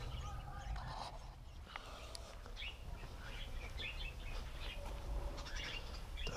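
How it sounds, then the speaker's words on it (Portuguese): Parakeets chirp steadily in an outdoor aviary on a cold, frosty July morning, with bright overlapping tweets and calls continuing throughout over a constant low background rumble. "os periquitos, ó."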